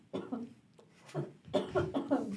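A few soft, short coughs come in quick bursts, close and fairly quiet, followed by a cluster of three or four rapid coughs near the end.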